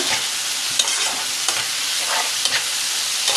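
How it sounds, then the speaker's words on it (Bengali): Spice paste sautés in oil for a Bengali-style batasio fish curry, a continuous close crackling sizzle broken by several brief stirring scrapes against the pan, with no voices. "যে মশলা থেকে তেল বেরোনো শুরু হয়ে গেছে তার মানে মশলাটা কষানো হয়ে এসছে"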